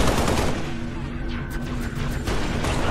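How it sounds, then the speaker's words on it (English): Rapid gunfire from Magnum security sidearms in the video game Halo Reach, dense continuous shots filling the clip under a busy game soundscape. "Gunfire. Magnums. Security sidearms."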